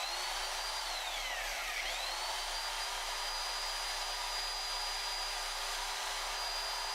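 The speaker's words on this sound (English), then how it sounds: "Next tool from a bygone age, drill." A steady, high-pitched electric drill whine runs throughout, powered by an EcoFlow River 2 Pro power station, with a brief dip and rise in pitch early on, then holding constant.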